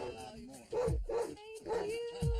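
Several dogs bark and yip at a dog psychology center, with short bursts repeating close by, mixed with people talking.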